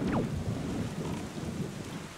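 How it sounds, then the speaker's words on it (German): Heavy rain hisses steadily over a cursed island in The Legend of Zelda: The Wind Waker HD, with a low rumble of thunder rolling underneath throughout. "hier regnet es immer auf der Insel, die ist ja verflucht"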